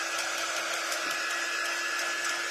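A hair dryer blows steadily on a painted double-sided cutout, a continuous, even, close whirring hiss with no talk.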